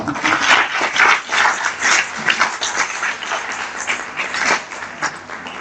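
Applause from an audience of students in a college hall, uneven bursts of clapping that swell and dip in waves, moderately loud and close, with no voices over it.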